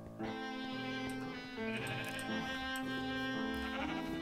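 Cows low in a video game farm scene, sustained tonal calls layered with background music, loud and continuous with no talk.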